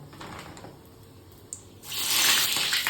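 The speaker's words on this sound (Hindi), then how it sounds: "ये पानी क्यों गिर रहा है?" Water pouring or splashing in a home kitchen near a gas stove, rising suddenly into a loud, steady broadband rush after a quieter stretch with faint clinks.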